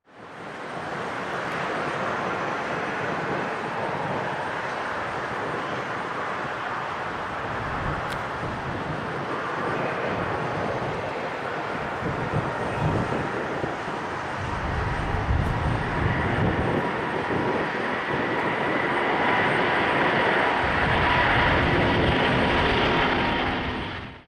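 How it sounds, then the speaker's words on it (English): A Delta Airbus A350 jet roars through a short takeoff on a ferry flight, a loud, continuous broadband engine rumble that holds steady and swells slightly toward the end before cutting off. "This Delta Airbus A350 performs a short takeoff on a ferry flight without passengers."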